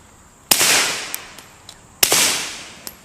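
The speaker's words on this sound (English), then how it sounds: "Let's quietly put a couple of rounds on the target." Two sharp suppressed gunshots fired at a target, about a second and a half apart, each a loud crack trailing into a hissy tail, with faint clicks and small knocks between them.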